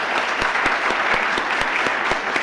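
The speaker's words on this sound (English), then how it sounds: "Let's give them a round of applause." Steady applause from an audience at a university Provost awards ceremony, with dense continuous clapping and a few sharp individual claps standing out at a regular pace, carrying on throughout without anyone speaking.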